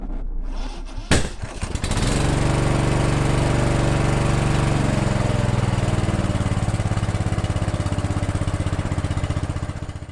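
A 16 horsepower ride-on mower engine with its mowing deck removed starts up after a sharp clatter, then runs loud and steady at a close, even throttle.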